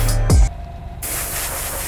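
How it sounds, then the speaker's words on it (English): An airbrush sprays white paint onto custom Nike Air Max golf shoes. A loud hiss is cut off by a short pause near the start, then the spray resumes as a steady, even hiss. "We're just gonna be spraying it through the airbrush."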